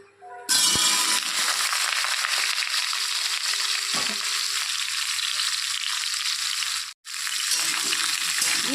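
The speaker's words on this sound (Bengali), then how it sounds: "এখন আমি তেলের মধ্যে দিয়ে দেব ফুলকপি আর আলু" Cauliflower and potatoes tipped into hot oil break into a loud, sustained sizzle that holds steady and close, briefly dipping once before frying on.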